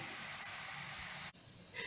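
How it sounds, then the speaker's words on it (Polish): Paprika pancakes with sausages fry in a pan, giving a soft, steady sizzle and hiss for a couple of seconds. "Naleśniki paprykowe z paróweczką smażą się"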